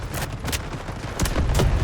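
AKS-74 rifle fire in the shooter game Delta Force, rapid bursts of loud gunshots crackling in quick succession with no talk over them.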